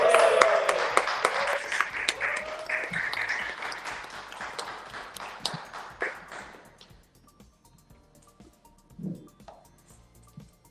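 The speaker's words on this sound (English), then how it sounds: "A round of applause" Audience applause at a Manhattan book conference welcoming an author, a loud, dense burst of clapping that thins out and fades away over several seconds, leaving quiet with a brief sound near the end.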